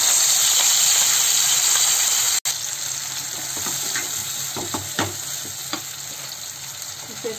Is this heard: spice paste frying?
yes